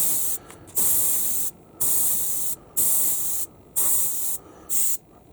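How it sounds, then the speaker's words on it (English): An Iwata HP-B Plus airbrush sprays a medium pattern in six short bursts of bright, close hiss, each cut off sharply with quiet pauses between. "And these are some medium spray"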